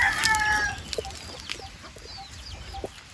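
Chickens and young chicks on damp ground, with soft clucks and short chirps scattered over a faint outdoor background.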